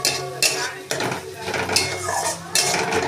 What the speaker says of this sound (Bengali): দিয়ে ভালো করে নেড়ে দেব।